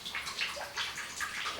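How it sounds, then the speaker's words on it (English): Water drips and splashes from a leaky sink tap in a home bathroom, a steady patter of small wet droplets that stays fairly close and quiet with no talking. "the water which is dripping out"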